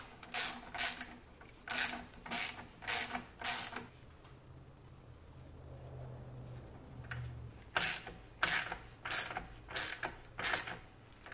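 A hand ratchet tightening a part on an Audi S4, sounding as two runs of five or six crisp, evenly spaced clicking strokes up close, separated by a few seconds of quiet shop hum.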